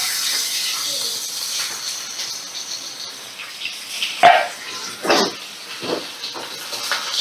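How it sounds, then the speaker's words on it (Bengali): Pomfret fish rubbed with salt and turmeric are laid one by one into hot mustard oil in a wok, each landing with a sharp burst of sizzling over a constant hiss. "এবার একটা একটা করে আমি নুন হলুদ মাখানো পমফ্রেট মাছগুলোকে"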